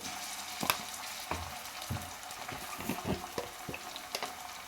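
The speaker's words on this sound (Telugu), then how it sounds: "ఉల్లిపాయ అనేది వేగిపోయిందండి" Onions sautéing in a covered pan, a soft steady sizzle broken by irregular crackles and pops, close and fairly quiet, with no voices.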